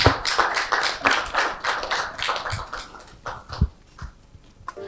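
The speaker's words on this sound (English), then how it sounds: "Round of applause for him." A small group at a cybersecurity hackathon claps, with distinct individual hand claps in a quick, uneven rhythm that thins out toward a few scattered claps at the end.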